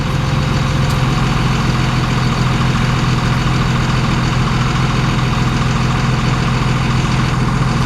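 Heavy truck engine idles steadily while hauling a wide load on a trailer, a loud, constant low rumble with no break across the whole stretch.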